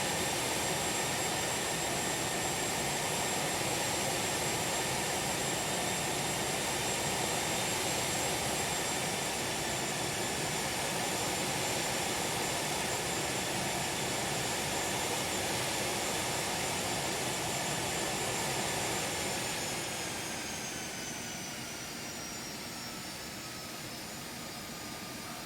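An Embraer Phenom 300 business jet in flight gives a steady, loud broadband engine roar with a thin high whine, and the roar eases slightly toward the end, with no voices.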